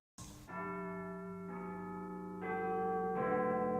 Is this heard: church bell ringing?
yes